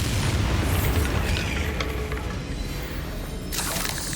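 Bombarda spell explosion in the video game Hogwarts Legacy, a loud, roaring blast with rumbling debris and a fresh burst near the end, heavy and continuous.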